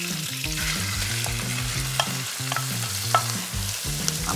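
Meat, onion and carrot sizzle and fry in a preheated Cookeo multicooker while a utensil stirs them, scraping in a steady rhythm with a few sharp knocks against the pot, no voices.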